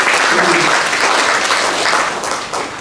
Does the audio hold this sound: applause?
yes